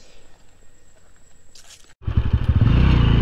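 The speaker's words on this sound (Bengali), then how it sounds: "আমি কিন্তু বাইক ছেড়ে দিলাম" A motorcycle moves off and rides along a road toward the jungle interior of Jangalmahal, near Pata hill in Bandwan, Purulia: quiet idle at first, then a sudden loud, throbbing engine roar that rises and holds close by.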